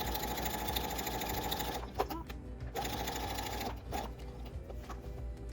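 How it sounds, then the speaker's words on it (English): A sewing machine stitches fabric for a small-pet hammock. It runs in a steady close whir, stops briefly twice with small clicks, then starts again. "So I'm gonna sew this and then that"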